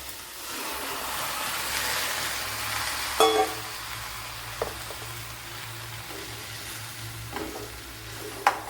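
Brinjal pieces cooking in a pan with softened onion and tomato give a steady low sizzle with occasional stirring clicks and scrapes; no one speaks over it.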